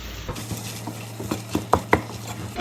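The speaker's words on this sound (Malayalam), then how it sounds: "ഞാനിവിടെ ഇഞ്ചിയും വെളുത്തുള്ളിയും ഒന്ന് ഇളക്കി നോക്കാം." Ginger and garlic are stirred in a pan for a Kerala-style roasted coconut tapioca biriyani, a spoon scraping and clinking against the metal several times in an uneven rhythm, close and clear over a faint steady hum.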